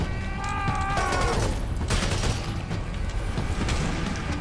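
Bursts of automatic gunfire in the Serious Sam 4 shooter, loud and dense, layered with booming impacts and mechanical clatter across a chaotic co-op firefight, with no talking.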